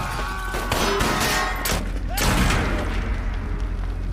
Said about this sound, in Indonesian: ia disambut tembakan para kriminal yang berjaga. Baku tembak pun tidak bisa dihindari